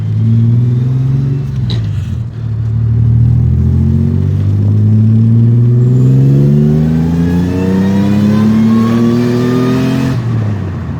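A supercharged Toyota Tacoma S-Runner 5VZ engine with an AFE open-element intake revs and accelerates through rising gear sweeps, loud and close, with a brief shift dip before climbing again steadily.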